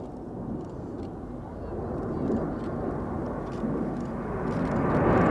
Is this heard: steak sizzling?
no